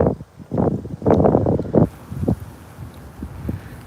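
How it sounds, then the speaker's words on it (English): Strong gusts of wind buffet the microphone in loud, rumbling bursts that ease off toward the end and leave a softer, lingering rush. "sorry about the wind. I was expecting it to be windy"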